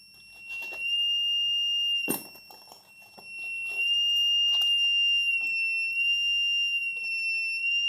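A metal detector built around a 555 timer IC gives a steady, piercing electronic tone that shifts in pitch as a piece of metal is placed near it. Faint clicks and handling noises sound under the tone, and no one speaks.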